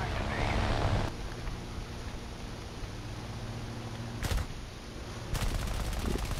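30-caliber machine guns on a P-400 fighter plane firing in an air-combat video game, fast rattling bursts under a steady engine drone, with sharp loud bursts near the start, the middle and the end.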